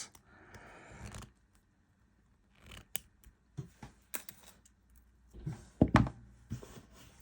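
Small wire cutters snip beading wire while a chunky bag charm is made, giving a few sharp, close clicks and snaps between quiet pauses, with faint handling scrapes.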